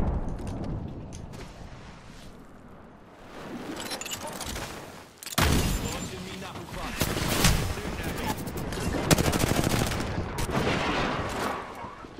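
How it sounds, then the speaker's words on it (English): Rapid automatic gunfire and bursts of shots in the battle royale game Apex Legends, loud and dense, with sharp volleys and brief pauses, while a player talks over the action. "I am taking fire."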